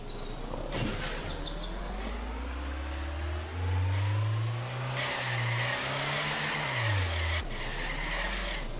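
A car in the Factory Runner video game reversing and skidding, its engine revving up and down loudly while tires squeal and scrape across the ground in one continuous stretch.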